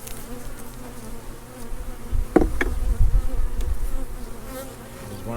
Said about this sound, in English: Bee population doesn't look that big.